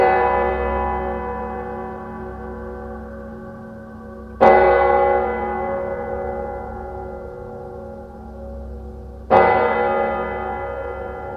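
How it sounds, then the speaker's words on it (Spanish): A large church bell tolls three slow times, each strike ringing out loud and then fading into a long humming decay. "En una ocasión, María Josefina despertó por las campanadas de la iglesia, que llamaba a todos sus fieles."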